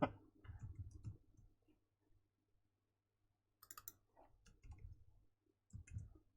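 Typing on a computer keyboard while coding: quiet clusters of soft key clicks come in short bursts, separated by near-silent pauses.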